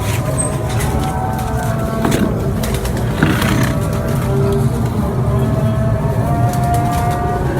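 Breeder pigeons in Gujrat cooing softly amid a steady low rumble of background noise, with faint occasional bird calls and a distant vehicle sound.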